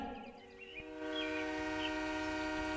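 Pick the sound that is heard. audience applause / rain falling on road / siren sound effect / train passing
train passing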